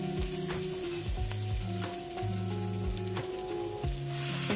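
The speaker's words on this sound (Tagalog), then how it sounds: "Sa ating pan ay susutay natin yung ating garlic" Garlic and onion sautéing in a pan gives a continuous close sizzle and crackle, with stirring scrapes and some tonal hum running underneath throughout, no voices.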